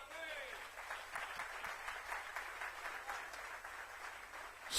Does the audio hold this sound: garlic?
no